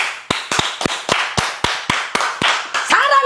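A church congregation claps hands in a slow, even rhythm, about ten distinct sharp claps in a row, close and clear, before voices rise at the end.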